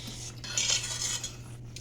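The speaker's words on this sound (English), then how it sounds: "I like to put the fork flat down on the pan on the bottom and stir it around and kind of scrape it" A fork lies flat against the bottom of a pan and is stirred around, giving a soft, steady metallic scraping that swells briefly in the middle and stays fairly quiet throughout.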